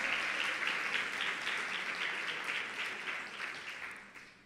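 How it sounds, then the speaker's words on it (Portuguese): A church congregation applauds together during a worship service, giving dense, sustained clapping that slowly fades toward the end. "Vamos aplaudir ao Senhor."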